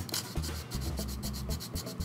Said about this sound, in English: Best thing is to use a medium sanding stick and try to, from the back here,